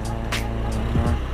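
A car goes by on a rain-wet road, heard from a moving motorcycle, its tire hiss brief and blended into steady wind and engine roar.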